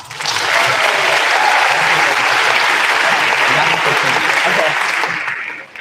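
A large graduation ceremony audience for the class of 2026 breaks into loud, continuous applause with voices mixed in, holding steady before tapering off at the end.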